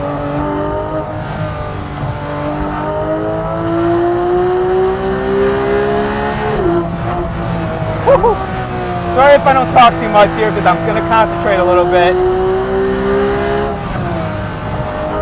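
A 991-generation Porsche 911 GT3 with a naturally aspirated engine revs and climbs through the gears toward a high-pitched scream, heard from inside the car while the driver talks over the rising engine note.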